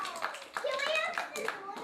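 Children clapping together after a call to applaud recycling at a kindergarten-style show, several uneven bursts of claps mixed with kids' excited voices over about two seconds.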